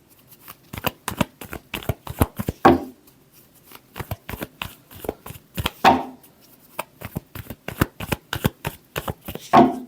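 Tarot cards are shuffled by hand in rapid, crisp riffling clicks that continue throughout, with a few heavier slaps as the deck is squared, close and alone.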